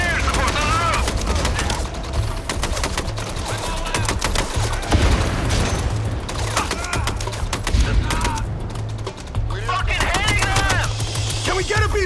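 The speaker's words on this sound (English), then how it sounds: "Heavy fire incoming!" Heavy gunfire in the video game Mindseye, with dense, continuous bursts and booms of a firefight running loud throughout, shouted voices and game dialogue mixed in over the shooting.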